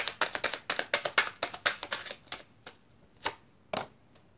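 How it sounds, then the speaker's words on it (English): Quick, crisp riffling clicks of sticking tarot cards being shuffled repeat in a rapid run, then slow to a few separate snaps near the end. "One more shuffle. Sorry, these cards are sticking."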